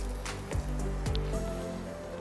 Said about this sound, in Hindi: इसे खूब अच्छी तरह चला के फ्राई करेंगे, मीडियम टू लो हीट पे।